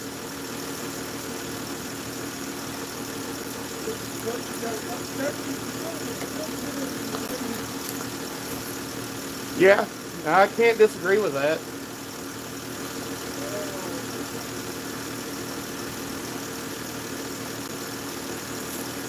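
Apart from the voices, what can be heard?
Mopar car engine idling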